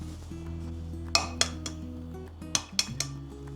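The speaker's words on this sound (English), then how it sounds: "Separating the yolks of the eggs." Eggs being separated in a bowl, with a series of sharp shell taps and glassy clinks against the bowl's rim, spaced irregularly over a low steady hum.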